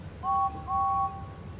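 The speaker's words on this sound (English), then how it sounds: "They had just woken up from a long night's sleep when they heard James's whistle." Steam engine James sounds his whistle: two clear, steady, high-pitched blasts, a short one followed by a slightly longer one, heard alone over a faint background.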